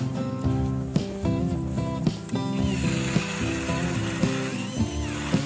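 Cordless screwdriver drill whirring on a frozen lake during winter fishing, a steady motor drone with ratcheting clicks and a few sharp knocks throughout, close and fairly loud.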